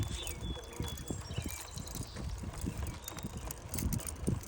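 Horse on Mackinac Island walks on pavement, its hooves clip-clopping in a steady rhythm, faint and mid-distance amid outdoor background noise.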